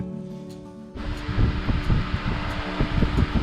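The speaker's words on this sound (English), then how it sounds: "I have to excuse the fan noise" Electric fan running in a workshop on a hot day, a steady whooshing hum that swells louder after the first second and carries faint irregular knocks and rustles, with no talking.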